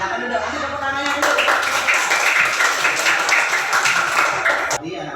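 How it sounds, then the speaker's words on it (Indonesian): A classroom of students claps in unison, a loud, sustained burst of rapid applause that swells after a moment and cuts off sharply near the end. "Kasih tepuk tangannya dulu."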